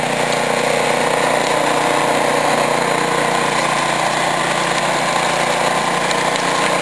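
A snow blower runs steadily through a snowstorm on New Year's Day, a continuous broadband engine roar that stays loud and unbroken throughout with no talk.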